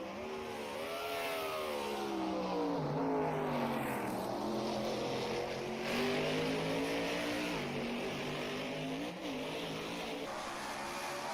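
Race cars at Oulton Park run reconnaissance laps during an SRO event, a continuous loud engine drone with shifting pitch as cars pass and rev, steady throughout with no talk.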